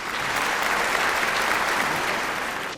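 A crowd at a Mother's Day debate event in Vellakovil breaks into loud, steady applause that holds evenly for nearly three seconds, then cuts off abruptly.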